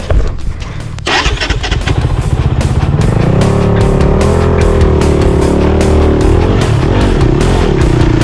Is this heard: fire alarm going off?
no